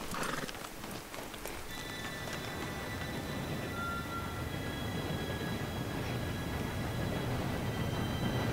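A steam train arrives in Red Dead Redemption 2 with a steady mechanical rumble and faint high squeal, while horse hooves clop loudly nearby and a horse whinnies.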